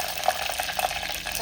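Dried red chillies sizzle in hot oil while a chilli sambar tempering is cooked, a soft, steady crackle with scattered small pops and no voices.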